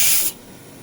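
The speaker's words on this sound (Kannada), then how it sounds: "1 ವಿಷಲ್ ಮಾತ್ರ ಕೂಗಿಸ್ಕೊಳ್ಬೇಕು" A pressure cooker cooking chana dal releases steam in a short, loud, close hiss that cuts off abruptly after a fraction of a second.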